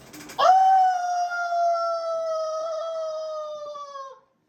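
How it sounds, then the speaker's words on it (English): A wolf lets out one long, sustained howl, a clear steady tone held for several seconds before trailing off, fairly prominent and alone, with a brief noisy burst just before it. "Y'all hear a wolf howling off in the distance."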